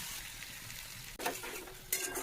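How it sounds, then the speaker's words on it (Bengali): Raw onions fried in oil with whole spices for a Bengali egg curry, a steady low sizzle with stirring that brings two sharper scraping bursts from the pan, close and without any talk. "কাঁচা পেঁয়াজটা দিয়ে সেই তেলটা সমেত সমস্ত মশলা মানে সমস্ত ফোড়নকে একটু ভালো করে মিশিয়ে নিতে হবে।"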